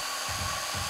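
A 35mm film camera motor set at its lowest power, barely turning, giving a steady low hum with two soft, slow pulses of mechanical whir in about a second.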